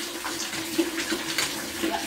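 Running water from a tap while clothes are washed by hand, a steady splashing wash with brief clinks and sloshes, close and moderately loud throughout.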